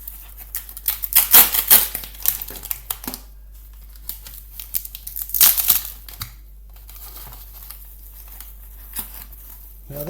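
Astra Platinum double-edged razor blades and a razor being unwrapped from wrapping paper, with close, loud bursts of crinkling and rustling paper coming in irregular clusters separated by quieter pauses, and no talking.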